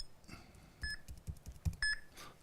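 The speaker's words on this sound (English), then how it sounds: "there should be a beep every 1 second" Test beeps from a live DASH reference video player, two short electronic tones repeating about once a second, clear but modest in level over a faint room background.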